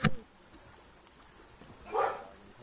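A single sharp dog bark at the start, then quiet, followed by a softer short yelp or whine about two seconds later.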